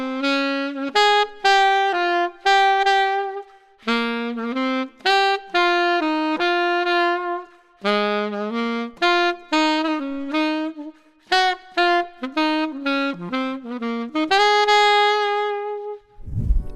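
A wind instrument played with a relaxed, open embouchure, running through a lively melody of short and sustained tones with rich, warm harmonics, loud and close, with no voices.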